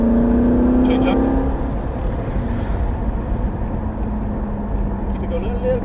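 A Ferrari 458 accelerates on a track after an upshift, a loud, steady engine drone holding close throughout with a rising tone early on, while an instructor talks over it.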